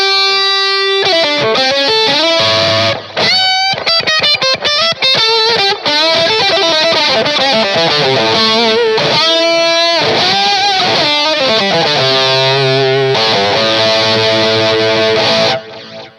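Electric guitar through a Rockman-style GOAT Analog Distortion Generator pedal with the lead switch engaged, playing a sustained, heavily distorted lead line with bends and held notes, loud and continuous with no talking.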